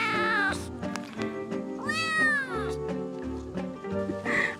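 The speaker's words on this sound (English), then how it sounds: "a tiny cat came running over to us" A tiny stray cat on Guimaras Island in the Philippines meows repeatedly and insistently up close, with rising and falling drawn-out cries over a busy tonal background.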